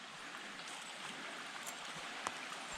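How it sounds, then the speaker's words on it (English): A mountain creek flows right beside a flat campsite in the woods, a faint, steady, hissing babble of running water with a few tiny splashes and no voices. "Got the creek right next door."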